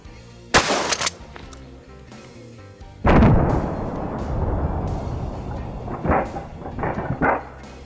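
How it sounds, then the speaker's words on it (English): Two loud, booming shotgun blasts firing double-aught buckshot at a target about 15 feet away, the first near the start and the second a few seconds later with a long rumbling tail, followed by some softer knocks. "let's see if we can't take a precision shot with some double-aught buck"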